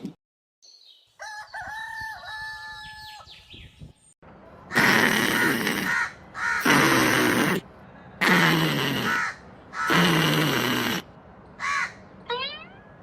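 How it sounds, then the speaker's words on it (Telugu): Crows caw at dawn. Scattered softer bird chirps come first, then four loud harsh calls follow one another at roughly even intervals close by, with a brief chatter at the end. "కాకులు కావు కావు అంటున్నాయి తెల్లారినట్టున్నది లేవాలిగా"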